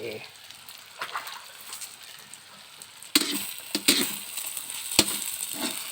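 Pad thai noodles with lamb stir-frying in a pan, a soft sizzle with sharp spatula scrapes and clatters that grow louder and busier after the first few seconds.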